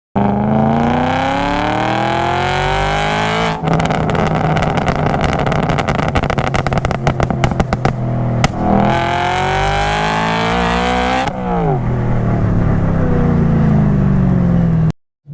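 A loud, close BMW E92 M3 V8 with a Gintani tune and valved Mille Miglia exhaust roars and revs continuously while accelerating, rising and falling in pitch, with a burst of rapid crackling pops midway and another climb near the end.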